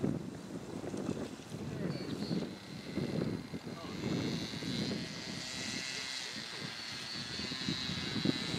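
Propeller engine of a student-built UAV aircraft coming in to land: a steady, moderately distant droning hum mixed with gusty wind noise, continuous for several seconds.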